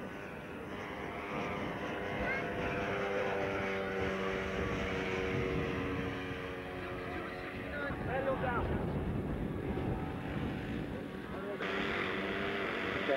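A model aeroplane at a Woodvale flying event buzzes steadily with a droning engine whine that shifts pitch as it passes, heard over constant outdoor background and nearby talk.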